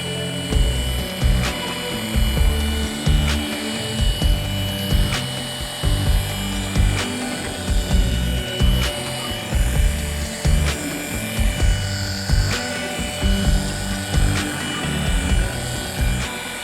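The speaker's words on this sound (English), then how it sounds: "this is obviously the Milwaukee M18 15mm polisher, the 2684" Milwaukee M18 2684 5-inch polisher with a brand-new pad working a car panel, a loud, close, continuous motor whine with rhythmic pulsing and periodic brief ticks as the pad moves across the surface.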